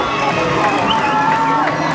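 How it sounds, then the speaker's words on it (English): A crowd at a junior roller derby bout between Jersey Jr and the Pittsburgh Derby Brats keeps up a steady, loud roar of cheering and yelling, with a thin whistle-like tone rising above the din. "Can we get a round of applause and yelling for the girls for putting on such a hard game so far?"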